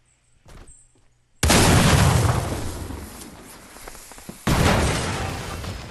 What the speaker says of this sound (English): Bring this all down with one grenade.